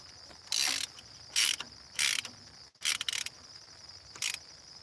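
A hand ratchet tightens a bolt on a Massey Ferguson tractor, giving several short bursts of rapid clicking close by, separated by brief pauses, with a steady insect-like whine in the background.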